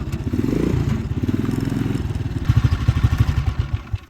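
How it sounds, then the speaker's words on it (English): A free Bombardier Traxter ATV, its carburetor freshly cleaned, idles a little low with a steady throbbing engine pulse close by; the beat grows louder and punchier near the end, with no talk over it. "this is the free Bombardier Traxter I got the other day. It's idled a little bit low"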